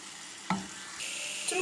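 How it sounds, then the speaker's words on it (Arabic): Chicken pieces with turmeric, black pepper, ginger, salt and garlic cloves frying in oil in a pan, a steady close sizzle with a brief stir or clatter near the middle and the sizzle brightening toward the end. "ثم كنخليو وعفوا فص الثوم كنخليوه كله يتقلى"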